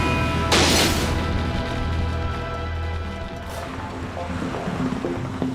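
Strong wind gusts roar and buffet across an outdoor house-moving site as cranes lower a roof onto a mansion, a loud steady rush with a sharp blast early on and machinery hum underneath.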